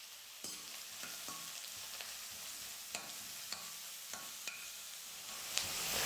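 Finely chopped onions and curry leaves fry in a pan for chilli or kothu parotta, a soft, steady sizzle punctuated by regular light taps and scrapes of a spatula.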